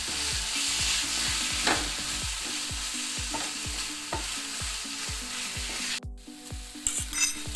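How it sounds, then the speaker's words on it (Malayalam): Coriander powder and Kashmiri chili powder stirred in a frying pan for a squid roast, a spoon scraping in a steady repeating rhythm over a soft continuous sizzle, close and fairly loud, with a brief clatter near the end. "ഇതൊന്ന് പച്ചമണം മാറുന്ന വരെ നമുക്കൊന്ന് ഇളക്കി കൊടുക്കാം"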